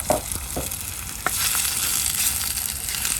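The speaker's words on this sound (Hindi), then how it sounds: "अब इसमें हम लोग डालते हैं मैरिनेट किया हुआ शार्क।" Marinated shark pieces dropped into hot oil in a pan, a steady crackling sizzle with a few sharp pops and stirring clatters near the start, close and alone without talk.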